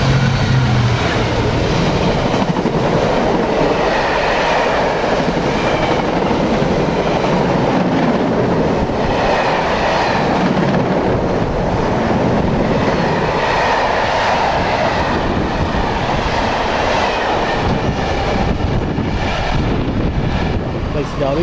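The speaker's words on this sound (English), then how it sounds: "we're just going to wait for our train." A train rumbles past close by with a loud, steady roar and clattering wheels that continue unbroken for the whole stretch.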